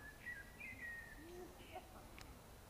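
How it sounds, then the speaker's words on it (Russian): Small birds sing by Lake Vyrlitsa, giving faint, scattered high chirps and short whistled notes over a soft outdoor background hush. "А тут птички поют."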